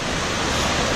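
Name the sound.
ocean waves at Myrtle Beach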